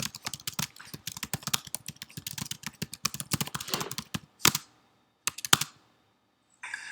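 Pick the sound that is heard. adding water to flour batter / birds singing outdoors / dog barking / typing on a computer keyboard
typing on a computer keyboard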